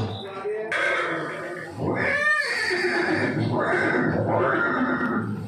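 A horse whinnies once, a quavering rising-and-falling neigh, in a scene depicting a warrior king's horse at Haldighati, Rajasthan, heard under continuous Hindi narration.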